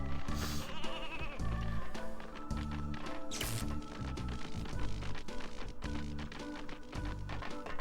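Sheep bleats ring out over a busy, steady music track from the Nintendo 64 game Space Station Silicon Valley, a couple of bleats standing out among rhythmic beats and clicks.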